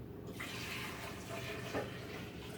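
Homemade carrot juice poured into a glass, a quiet continuous trickling splash that runs steadily without interruption, faint and close.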